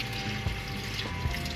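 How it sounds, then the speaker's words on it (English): Water poured from a tap into a can of drained beans, a steady close splashing trickle with brief louder gushes, no talking. "I like to drain the beans a little bit and put a little water in there"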